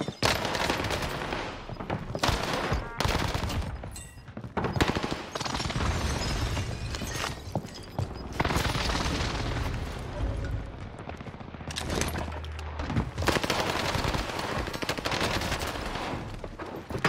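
OTS 9 submachine gun firing in Call of Duty Warzone on Rebirth Island, with loud, dense bursts of rapid automatic fire that continue almost without a break and are interspersed with brief pauses.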